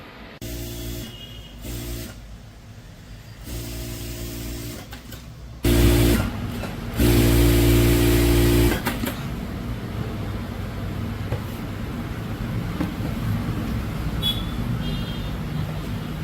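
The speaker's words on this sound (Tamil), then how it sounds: "ஸ்லீவோட பாட்டம் ஃபோல்டிங் வந்து ஸ்டிச் பண்ணிக்கங்க" An electric sewing machine stitches the bottom fold of a blouse sleeve with lining and blouse fabric in repeated motor runs of a few seconds each, louder in the middle bursts, followed by quieter handling of the fabric.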